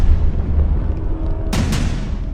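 Israeli airstrike explosion over Gaza, caught from a drone: a heavy, booming low rumble runs throughout, punctuated by two sharp cracking bursts in quick succession midway, loud and close, with no one speaking.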